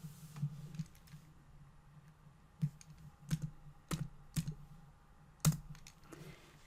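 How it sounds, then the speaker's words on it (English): Typing on a computer keyboard makes sparse, faint key clicks over a low steady hum, scattered irregularly across a quiet room. "So I will type in here"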